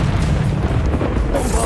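A Confringo fire spell blast erupts in a frantic Hogwarts Legacy duel, a dense booming burst amid ongoing combat noise and a voice calling out.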